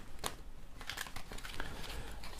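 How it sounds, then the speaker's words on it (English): Soft papery shuffling and light tapping of tarot cards being mixed by hand, close by and fairly quiet, with no talking. "And I'll do a little shuffle here."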